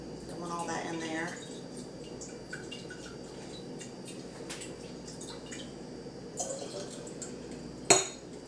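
Gentle sloshing of lime water being swished around fresh eggs in a container, with soft clinks and drips while a person talks over it.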